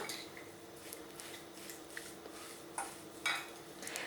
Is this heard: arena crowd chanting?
no